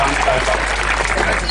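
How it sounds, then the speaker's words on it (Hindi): Applause at a Hindi comic poetry gathering: a brief, dense patter of many hands clapping fills the hall, fairly loud and continuous, with a voice faintly audible underneath. "तो फिर जोरदार तालियां बजा बघेल दमदार जी को"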